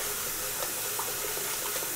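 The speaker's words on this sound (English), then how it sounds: "Loading the sink up full of water." A bathroom sink filling with water from the tap before a shave, a steady broadband rush of running water with faint splashes, continuous and fairly close, with no voices.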